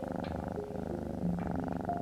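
A steady, low rumbling purr from a cat, continuous and close, with a slight pulsing rhythm and no other sounds.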